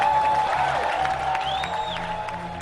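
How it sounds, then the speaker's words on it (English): Audience applause at a Sony PlayStation presentation, a steady dense wash of clapping from a large crowd, moderately loud and continuous, with a faint tone running underneath. "was met with great applause from everyone in attendance at the presentation"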